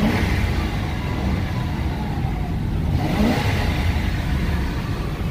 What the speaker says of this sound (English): Motor sounds great.